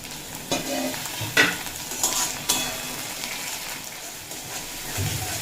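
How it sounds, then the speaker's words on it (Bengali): Tomatoes frying in a pan while being stirred, a constant sizzle broken by scraping strokes and knocks of the spoon against the pan, close up. "টমেটোটাও বেশ নরম হয়ে যাওয়া পর্যন্ত নাড়াচাড়া করে নিয়েছি"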